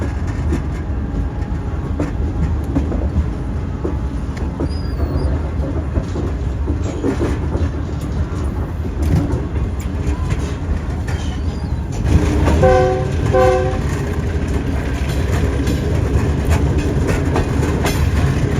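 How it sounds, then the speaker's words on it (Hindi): A passenger train pulls out of a station in Sindh, Pakistan, bound toward Larkana, with a steady loud rumble of wheels and carriages on rails throughout and a brief horn-like tonal burst partway through. "तो 5:02 पर ट्रेन फाइनली निकल चुकी है 7 रेलवे स्टेशन से"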